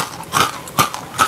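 Three crisp crunches of someone biting into crispy fried cassava lanting crackers, close and distinct, evenly spaced in quick succession.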